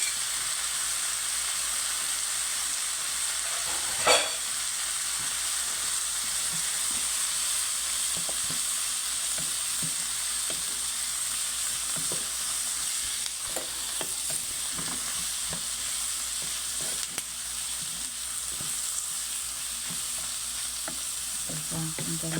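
Beaten egg poured into bitter gourd (ampalaya) frying in a pan, a steady close sizzle and hiss with occasional stirring scrapes and a brief clatter early on.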